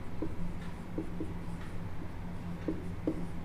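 Pen writing an equation on paper or board, a series of short scratchy strokes in an irregular rhythm, close and fairly soft over faint room hum, with no talking.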